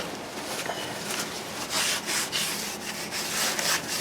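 Grease is wiped off a car wheel bearing seal with alcohol on a rag, giving steady close rubbing strokes with a few louder swipes, with no talking.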